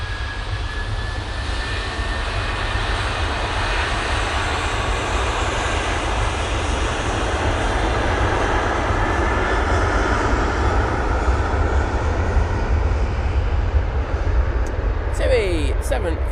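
A TUI Boeing 737 departing Manchester Airport makes a continuous loud jet engine roar with a strong low drone, holding steady and building slightly, with voices over it.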